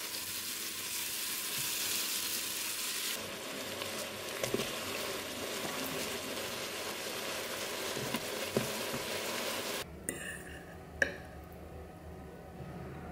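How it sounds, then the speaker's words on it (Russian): Mushrooms fry in butter in a pan with a steady, close sizzle that runs throughout, broken by a few soft stirring clinks and a brief sharp tap near the end. "сейчас обжарю, наверное, грибы на сливочном масле"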